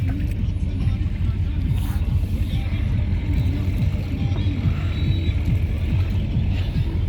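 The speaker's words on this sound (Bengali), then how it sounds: "অনেক দিন পর নৌকায় চললাম।" A small dinghy boat moving on a river where the Turag, Kali and Balu rivers meet, with a constant low engine drone and water rush close by.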